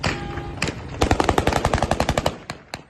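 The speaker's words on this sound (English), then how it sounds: "The celebratory gunfire is just unreal." Rapid bursts of celebratory automatic gunfire in Syria crackle in a fast, dense string, with scattered single shots before and after, loud and reverberant outdoors.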